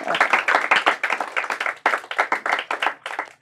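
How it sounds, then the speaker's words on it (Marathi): Steady applause from a quiz audience honoring a team that answered correctly, a dense run of many hands clapping for about three seconds, close and loud, with no talking over it. "जोरदार टाळ्या यांच्यासाठी."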